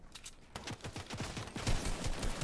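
A Fortnite gun sprays in a fast automatic burst. After a short quiet start the shots become a rapid, even rattle that grows a little louder and continues to the end.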